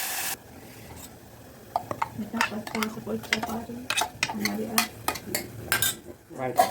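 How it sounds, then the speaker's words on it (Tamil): Masala paste is stirred and sautéed in a pan for a soya chunk (meal maker) gravy, with a quiet sizzle under repeated clinks and scrapes of a metal spoon against the pan that grow busier toward the end. "இந்த பச்சை வாசனை போகிற வரைக்கும் நம்ம இந்த மசாலாவை சேர்த்து வதக்கிக்கலாம்."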